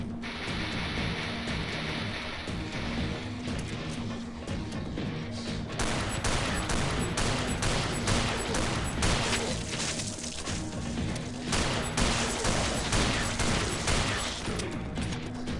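Hand cannon gunfire in the Killing Floor video game, modded version, comes as a string of sharp, loud shots mixed with mechanical clanks and crashes, repeating irregularly over a dense, busy background.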